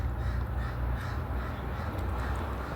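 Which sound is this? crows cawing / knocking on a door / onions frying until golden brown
crows cawing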